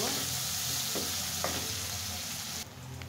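Two finely chopped onions fry toward brown in a pan, making a steady, moderately quiet sizzle with a couple of light stirring scrapes and a faint low hum behind it. No one speaks.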